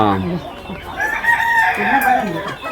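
Native hens and a rooster, loud and close, a crow rising over clucking calls in a short burst.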